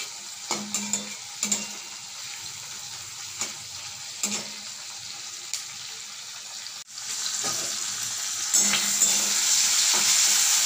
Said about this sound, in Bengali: এই চিংড়ি মাছগুলোকে আমি ভালো করে এর সঙ্গে ভেজে নিই।